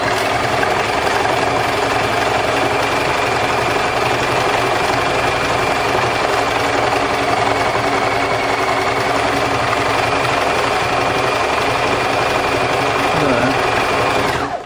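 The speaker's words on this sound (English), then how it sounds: "I'm going to come around and expose that daisy with machine stitch." A sewing machine stitches continuously across a layered surface of lace, paper and cloth, a loud, steady mechanical whirr and rapid needle chatter throughout, close up.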